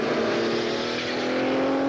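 Sports-prototype race cars roaring at full throttle around the Portland circuit in 1986 IMSA Camel GTP racing, a sustained high-pitched engine wail with a steady droning tone, no voices.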